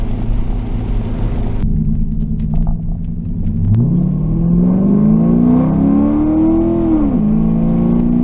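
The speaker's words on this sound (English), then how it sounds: "it won't downshift the second. It tries to go all the way to first." Chinavette engine revving hard as the transmission shifts gears, a loud steady rumble whose pitch sweeps up, holds, then drops sharply with the gear change, close and without talk.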